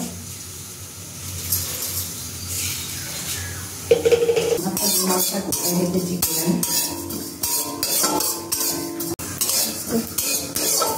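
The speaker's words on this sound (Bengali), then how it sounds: "শুধু জিরে দিয়ে একটু ভাজা মশলা করে নেব" Cumin seeds dry-roasted in a pan, with a metal spatula or spoon scraping and clinking against the pan in repeated stirring strokes, close and fairly loud, alone.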